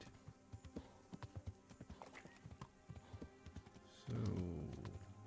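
Horse hooves clip-clop in a steady trotting rhythm during a ride in the Kingdom Come Deliverance video game, moderately close, then a horse whinnies briefly near the end.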